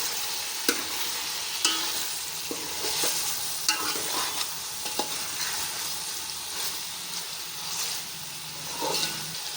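Chicken pulao is stirred in a pot of basmati rice, with a spoon scraping and clinking against the sides in irregular strokes over a steady sizzling hiss of oil. The sound is close and moderately loud, and no one speaks.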